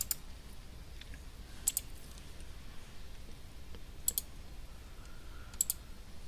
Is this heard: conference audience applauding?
no